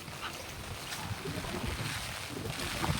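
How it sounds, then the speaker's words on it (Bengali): Strong wind gusting through a heavy rainstorm after a cyclone, with trees bent by the downpour and an umbrella being pulled about, roars as a steady broadband rush that swells slightly toward the end, with no one talking. "ছাতা উড়িয়ে নিয়ে যাচ্ছে আমার খুব হাওয়া খুব হাওয়া"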